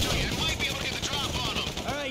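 Dense gunfire rattles during a bank heist in the video game GTA 5, rapid loud shots and bursts layered over game noise, with a voice speaking over it.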